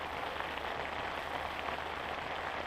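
Heavy downpour drums steadily on the surface over an ice-fishing spot, a dense, constant hiss of rain with no pauses and no voices.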